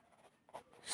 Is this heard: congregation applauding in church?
no